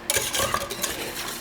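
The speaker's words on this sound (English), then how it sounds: "just keep whisking it periodically as it cooks" A whisk scraping and swishing through thickening eggnog syrup in a pan, fast continuous rattling strokes, close and fairly loud, with no voices.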